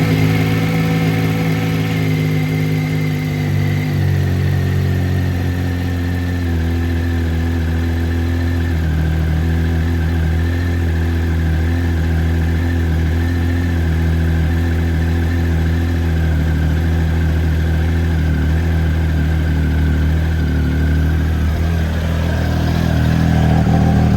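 A Triumph Speed Triple 1050 S engine idles steadily and close by, a loud even throb that runs without a break, with a slight change in pitch partway through and near the end.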